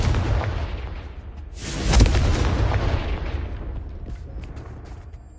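A Confringo blasting spell explodes in a wizarding video game, a single loud boom swelling at the midpoint over a dense rumbling game backdrop, then slowly decaying with faint crackles.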